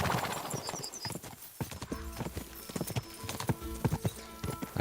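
A horse's hooves pound in a rapid galloping rhythm in the video game Kingdom Come: Deliverance 2, close and continuous, with a faint whinny near the start.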